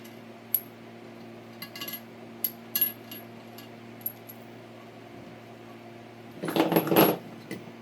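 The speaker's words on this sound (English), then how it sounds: "Let me take the bolts out." Light metallic clinks and taps from bolts being removed from a Hyundai Veloster Turbo fuel rail, scattered over a steady hum, with a brief louder rattling burst near the end.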